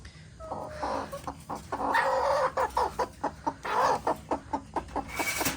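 A broody hen clucks in repeated short, fairly loud bursts close by, a rhythmic series of clucks and grunts with a higher squawk near the end, on a homestead farm.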